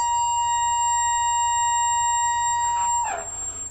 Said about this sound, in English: That's the high pitch frequency that I hear.